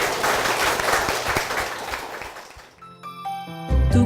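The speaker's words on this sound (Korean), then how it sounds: "주님께 영광의 박수를 드리겠습니다." A church congregation claps steadily for a few seconds and then stops abruptly. Soft instrumental music and other sounds follow once the clapping ends.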